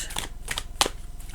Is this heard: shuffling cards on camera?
yes